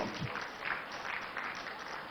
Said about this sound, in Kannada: ಎದ್ದು ನಿಂತ್ಕೊಂಡು standing ovation for this brilliant performance